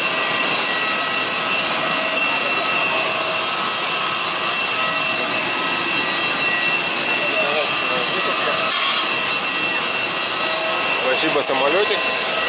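A loud, constant roar of an AirAsia jet engine at Kuala Lumpur's LCCT airport fills the whole stretch, steady and broadband, with faint voices briefly audible beneath it.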